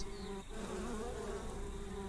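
Bees buzzing in the video game Spirit Legends, a steady, continuous insect drone that holds level and close throughout with no talking.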